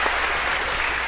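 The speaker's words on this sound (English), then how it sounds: "And a round of applause if we could for finding 50 so well." Brief dense applause from a lecture hall audience in an introductory computer science class, steady and full for about a second.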